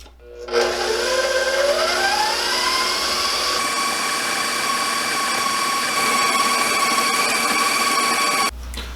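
An electric mixer creams butter and sugar for sugar cookie dough, a loud steady motor whine that climbs in pitch at the start and then holds constant before cutting off at the end.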